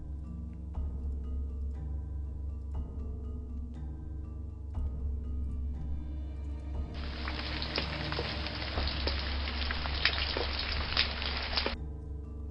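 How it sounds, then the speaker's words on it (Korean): A rain sound effect in a horror radio drama set on a West Sea island: after a quiet stretch of faint taps, a heavy, even downpour hiss starts abruptly midway, holds steady for several seconds, then cuts off. "비가 내리기 시작했어"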